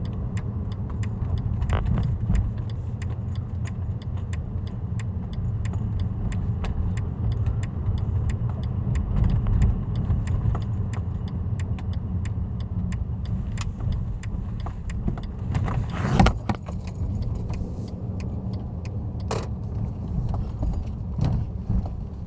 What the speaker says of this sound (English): Tear my car up driving down here with these idiots.